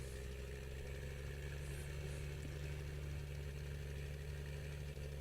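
A tractor engine in Farming Simulator 2013 runs at a steady idle, a continuous even drone with a low hum and no voices over it.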